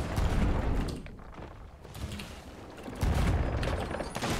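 Cannon fire from a ship battle in a pirate galleon game, heavy booming blasts and a rumbling barrage that rise, dip and swell again over a few seconds, loud and dense, with no voices.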